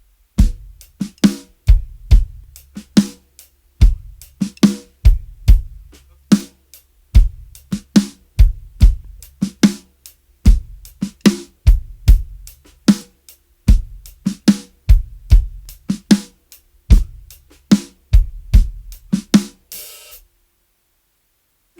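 Drum kit groove with ghost notes, quiet snare taps placed before beats 2 and 4, played as a steady, even pattern of kick, snare and hi-hat hits close up, then stopping abruptly near the end.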